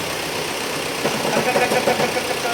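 Mahindra XUV300 diesel engine idling with a rough, uneven phat-phat knocking beat from a clutch fault, loud and close, while someone talks over it.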